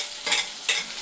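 Tomatoes go into a hot pan of garlic-cumin paste, making two quick hissing bursts of sizzle and stirring close by, with no voices.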